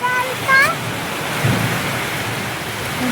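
Heavy rain falls during a thunderstorm with lightning, heard from indoors near a window as a steady broadband hiss and patter. A brief voice-like sound appears near the start.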